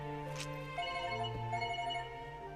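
A quiet telephone ring hums steadily in a muffled, distant way, with a soft thud partway through.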